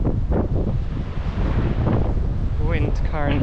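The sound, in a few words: wind blowing along the coast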